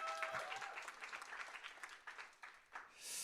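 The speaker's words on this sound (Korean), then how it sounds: "박수 한번" A small group of students applauds a classmate for a correct answer during a youth church gathering, fairly faint, uneven clapping with scattered pulses that fades and then swells slightly at the end.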